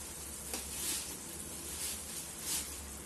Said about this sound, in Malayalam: നല്ലതുപോലെ ഒന്ന് ഇളക്കി യോജിപ്പിക്കാം.